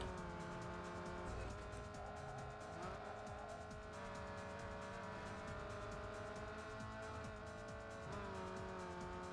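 A car races in Need for Speed Underground 2, its engine droning steadily and loudly while tires squeal intermittently over the sustained motor noise.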